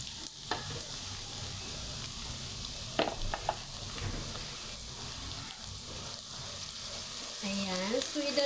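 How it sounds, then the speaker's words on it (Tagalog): Garlic fries in a pan for sotanghon with a steady, close sizzle and occasional stirring scrapes, continuous throughout, while a voice speaks briefly near the end. "Dark brown lang natin yung ating bawang"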